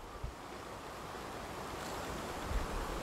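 Water beside a dirt path outdoors sends a constant low wash of waves with wind rumbling over the microphone, faint and steady with a couple of soft thumps, no voices.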